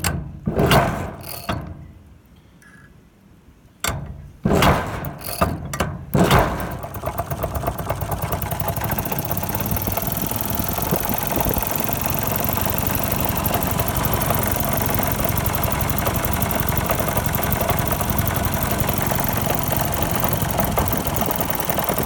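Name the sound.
old Maytag 72 engine running, belt driven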